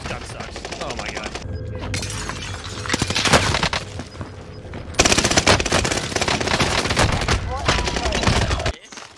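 Rapid automatic gunfire in a video game, loud sustained bursts of shots with brief pauses between volleys, close and dense, with a player's voice occasionally under the firing.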